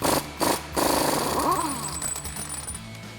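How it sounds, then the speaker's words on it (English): A ratchet turning a 36 mm socket on the front axle nut of a Silverado 1500 makes steady, loud rapid clicking for about three seconds with a few brief pauses. "Now I'm going to take a 36 millimeter axle nut socket to remove my axle nut"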